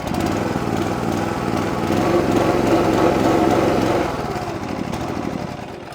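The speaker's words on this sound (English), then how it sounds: "we would turn the choke to the on position, do that maybe third throttle, go to the on position, and then start" Small gas engine on a Wolfe Ridge 28 Pro log splitter starting and running, a loud steady droning engine note held close for several seconds, easing slightly toward the end with no talking.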